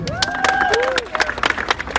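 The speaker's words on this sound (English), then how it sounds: "Let's clap for Gideon." Applause and scattered cheering from a crowd, with clapping rising and falling under a voice and a brief whistle-like tone.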